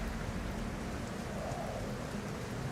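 Rain pours down steadily in the sci-fi game The Alters on an airless world, a soft, even wash of falling water with no voices.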